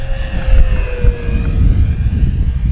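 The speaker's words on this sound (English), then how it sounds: "I'll bring it down the runway here real carefully at about half throttle." An FMS P-47 Razorback 980mm RC warbird flies low down a runway at about half throttle, giving a steady electric whine and wind rush that holds fairly loud and close for a few seconds.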